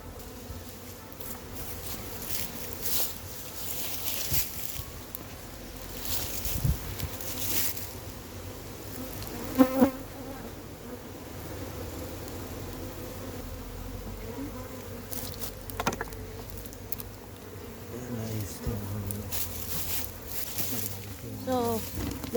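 Wild honey bees swarm around a massive, large-combed hive being removed, a steady insect buzz droning throughout with occasional handling noises and voices in the background.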